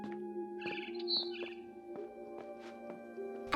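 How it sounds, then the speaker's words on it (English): A barn swallow in the game What Remains of Edith Finch gives a few quick, bright chirps outside a window, set over sustained soft music tones, fairly quiet. "Then I heard chirping outside my window."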